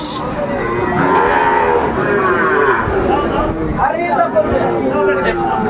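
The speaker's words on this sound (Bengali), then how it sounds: "একেবারে সেরা মানের গরুগুলা কালেকশন করছে সাদত ভাই" Sahiwal cattle mooing at a rain-soaked cattle market in Manikganj, Bangladesh: repeated loud, close lowing over a steady hubbub of people talking around the animals.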